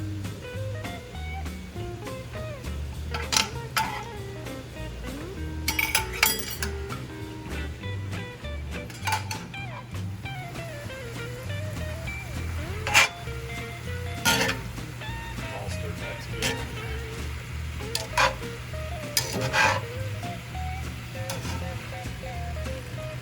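Steak fajita meat being stirred back into a hot pan of vegetables, with a steady low sizzle and scattered sharp clinks of a utensil against the pan, close and fairly loud, no talking.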